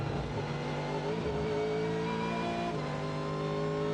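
A race car engine drones steadily on the high banks of turns 3 and 4 at Daytona during the Rolex 24 endurance race, its tone climbing and shifting in pitch, heard from a distance with no voices over it.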